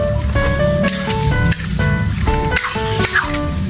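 Beef skin adobo with sugar and bay leaves is stirred in a pan, giving close, wet squelching and sloshing sounds in a quick, uneven rhythm.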